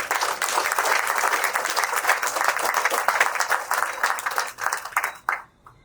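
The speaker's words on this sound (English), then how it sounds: "I think you deserve a round of applause for that." Audience at a Europe Day diplomatic event gives a full round of applause, dense steady clapping from many hands for about five seconds before fading out quickly.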